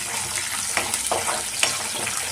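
Tempering seeds, chopped onion and two dried red chilies sizzle loudly in hot oil for a Telugu okra curry, a dense steady frying hiss broken by a few stirring clicks.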